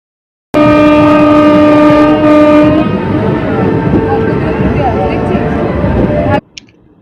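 A Digha-Panskura local train at a station crossing sounds a loud, sustained horn blast lasting about six seconds, close by, then cuts off abruptly.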